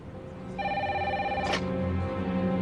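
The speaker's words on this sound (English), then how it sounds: "Until a phone call changes everything." An old-style telephone bell rings in a steady electric trill, fairly faint against a low background hum, with a brief sharp click partway through.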